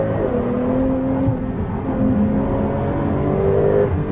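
A 2021 Porsche 911 Turbo S accelerates at full throttle, its engine note rising steadily as it pulls through the gear, loud and close from inside the cabin, with no talk.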